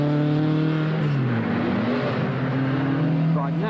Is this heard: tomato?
no